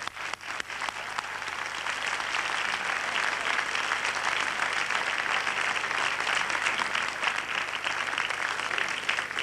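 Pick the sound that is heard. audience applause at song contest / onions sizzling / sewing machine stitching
audience applause at song contest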